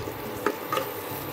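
Cream stirred into masala frying in oil for paneer do pyaaza, with a soft continuous sizzle and two quick scraping strokes of the spoon.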